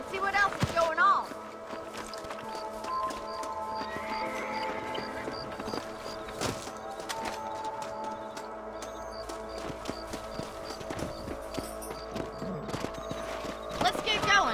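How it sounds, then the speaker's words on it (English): Horse hooves clip-clop at a steady, close walking rhythm in the Red Dead Redemption video game, running throughout under occasional talk. "Let's get back on the horses and see what else is going on."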